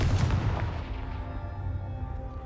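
A Confringo fire spell blasts in Hogwarts Legacy: one sharp, loud explosive boom that fades into a lingering low rumble, with no talking.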